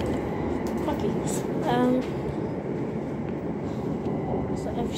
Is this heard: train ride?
yes